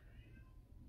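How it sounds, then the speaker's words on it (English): A house cat meows at a closed door, one drawn-out meow that is faint and muffled beneath a steady low background hum. "He is sitting there meowing at the door"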